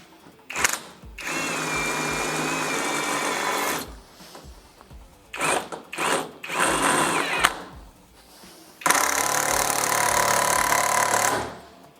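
A cordless power tool from a four-piece battery-powered tool set runs at low speed: three sustained whirring bursts separated by short pauses, loud and close, with no talking.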